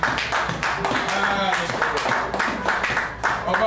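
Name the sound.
church congregation applauding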